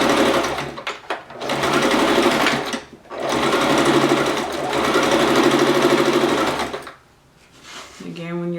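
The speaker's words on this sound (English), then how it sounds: "just allow the sewing machine to do most of the pulling." Sewing machine stitching a seam along fabric for an envelope pillow cover, running in steady mechanical bursts with short pauses, close and fairly loud, a few quiet words of talk in the gaps.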